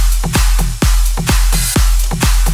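Electronic dance track drop with crash cymbals, loud and dense, with heavy kicks pounding on a fast steady beat under bright washing crashes and a thick bass layer; no voices.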